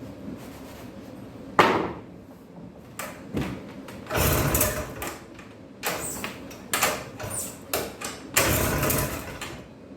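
A 1962 Harley Davidson Topper scooter engine is kicked over with the choke closed, giving repeated loud bursts of cranking and sputtering that catch briefly and die away. Between the bursts come short pauses and mechanical knocks.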